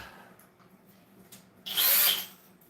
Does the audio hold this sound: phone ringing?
no